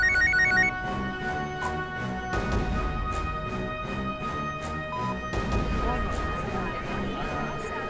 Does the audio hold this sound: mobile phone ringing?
yes